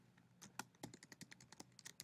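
Keys clatter on a computer keyboard in an irregular run of crisp, close clicks, fairly quiet, with no voice over them.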